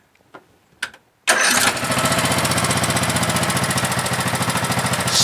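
A Craftsman LT1000 lawn tractor with a 16 HP engine and 42-inch deck cranks and starts after carburetor tuning, then settles into a loud, steady, throbbing run, preceded by a few faint clicks.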